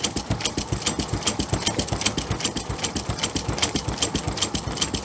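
A numerator numbering printing machine runs steadily, its rapid mechanical clatter repeating in an even, fast rhythm over a constant motor hum, close and alone without talk.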